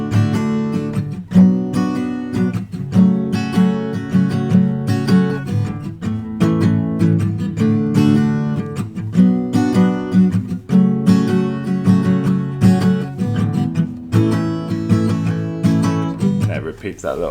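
Acoustic guitar strumming full chords in a steady, driving pattern for the chorus of a song, played loud and close with no voice over it.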